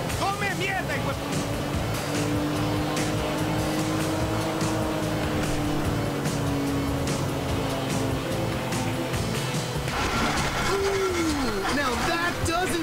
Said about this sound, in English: That's the engine, man.